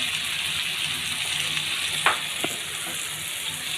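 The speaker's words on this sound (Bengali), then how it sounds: "তো বন্ধুরা এখন আমি একটু কষি নিচ্ছি" Spices and ground coriander sizzle and fry steadily in a pan, a constant close hiss with a couple of soft stirring knocks partway through.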